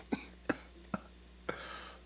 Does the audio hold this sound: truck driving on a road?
no